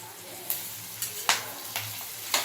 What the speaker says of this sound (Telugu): ఇప్పుడు మనము ఈ ఎగ్ ముక్కలు వేసేద్దాం